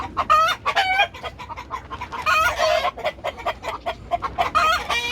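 A white hen clucking beside an egg nest outdoors, loud close repeated clucks and cackles in irregular bursts, with other fowl calling around it and no talk.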